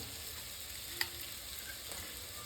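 Onions for mushroom biryani fry in oil in a pan, a steady close sizzle with one brief clink of a utensil partway through.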